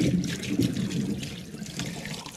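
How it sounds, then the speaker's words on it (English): Liquid whey from making raw milk farmhouse cheddar pours into a pot, a close, soft continuous splashing trickle lasting a couple of seconds with no talk. "I can just pour the whey straight into my pot."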